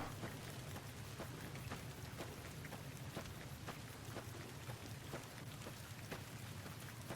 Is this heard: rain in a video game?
yes